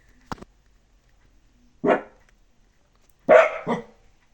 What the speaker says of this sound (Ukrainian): Це якщо що Джек гавкає, але нічого страшного.